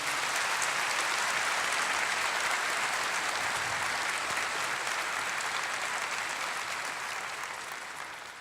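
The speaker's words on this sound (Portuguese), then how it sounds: "Vamos aplaudir o Brasil nesse dia." Sustained applause from a church congregation at a Catholic service in Brazil, a dense, steady clapping that fills the space and tapers slightly toward the end, with no talking over it.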